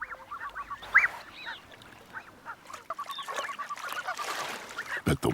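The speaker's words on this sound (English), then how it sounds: "These blue-winged geese have young goslings," Blue-winged geese with young goslings call in the African highlands with scattered honks and quacking cries, some near and some distant, over a soft outdoor background.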